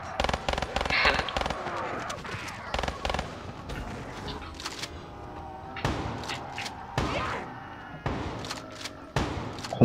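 Sharp repeated pistol shots in Call of Duty Black Ops III, Nightmare mode, a series of close cracks and thumps at irregular intervals with game sounds in the background.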